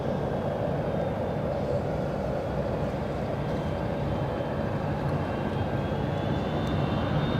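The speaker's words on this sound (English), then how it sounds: "We have the arrivals flying overhead." Arriving airliners pass overhead at Los Angeles International Airport, a continuous heavy engine roar with a faint high whine gliding beneath it, steady and close throughout.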